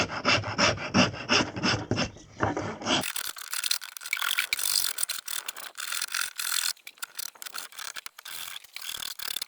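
Hand sanding on an alder wood slingshot handle, with a steady stream of rough, rhythmic rasping strokes close by. A coarser, denser grinding burst opens the run before it settles into lighter, brushy scraping.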